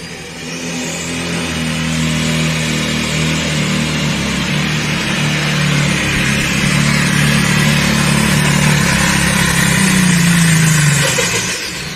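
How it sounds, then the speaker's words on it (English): Loud, close engine of a pulling tractor at a truck and tractor pulling event in Napoleon, Ohio, roaring steadily for the whole run with a fluttering exhaust and a falling pitch near the end. "You could hear the flutter out the exhaust pipe, and something definitely went wrong there."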